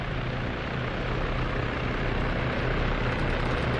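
A helicopter in the video game Arma 3 gives off a dense, steady roar of rotor and engine noise, loud and continuous throughout with no talk.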